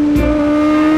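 A motorcycle engine holds a steady, loud note while the rider makes a clutchless upshift with a quick shifter, marked by a brief dip and jolt early on before the tone runs on unbroken.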